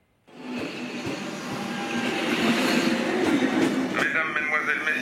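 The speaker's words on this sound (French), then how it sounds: "Des trains sont bloqués." A train on the Brussels–Namur line sits at a station, its engine and carriages giving a steady, rising mechanical rumble with faint squeals and a higher tonal whine near the end.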